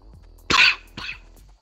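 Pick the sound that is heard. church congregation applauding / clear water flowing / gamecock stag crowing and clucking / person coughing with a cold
person coughing with a cold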